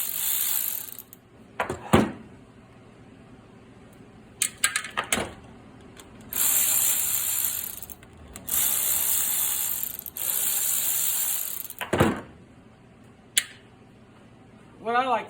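Bolts being loosened and removed from the top end of a Honda CT70 engine during teardown, with bursts of ratcheting and metallic clicks separated by pauses and some talk.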